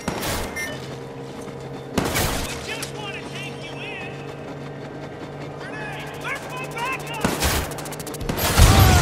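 Gunfire and a grenade blast erupt in a Watch Dogs 2 firefight: sharp broadband bursts near the start, midway and near the end, with a loud blast closing it out, over a steady low hum and scattered electronic chirps.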